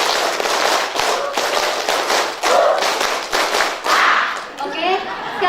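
A group claps out a numbered rhythm pattern during a community health post training session, sharp hand claps repeating in steady bursts across the clip amid room murmur.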